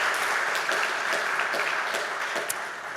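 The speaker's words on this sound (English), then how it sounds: "So, big round for all of you." Audience applause at a literary prize ceremony, a dense steady round of clapping from a crowd, fairly loud and sustained, tapering slightly at the end, no talk over it.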